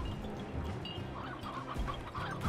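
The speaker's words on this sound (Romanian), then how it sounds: "Ok, avem niște găini pe aici." Chickens clucking in a desert area of a video game, several birds cackling in short bursts over a constant rumbling background hum.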